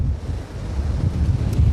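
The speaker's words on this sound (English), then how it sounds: "It is wild and windy up here at Orewa." Strong wind roars across the microphone beside a beach at Orewa in North Auckland during a storm, choppy waves rumbling underneath, loud and constant without a break.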